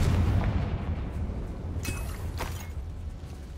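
A Confringo fire spell going off in the video game Hogwarts Legacy: a deep booming blast with a rumbling low end, followed by a few sharper crackling bursts partway through, all fairly loud with no talk.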